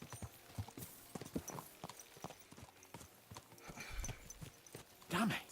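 Horses' hooves in Kingdom Come: Deliverance II clip-clop in a quick, steady rhythm at close range, with a brief snort near the end and a voice speaking over the hoofbeats.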